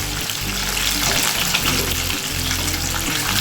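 Rui fish frying in hot oil crackles with a dense, loud, continuous sizzle close by, without any pause.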